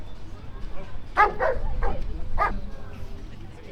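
Police dogs at a family safety day demonstration in Lasnamäe, Tallinn, giving a few sharp barks and yips close by while someone talks over them.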